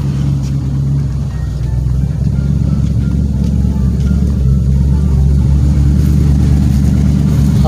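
A car with new mufflers, after two months of daily use, rumbles loudly close by, its deep exhaust drone holding steady with slight swells as the engine revs and idles.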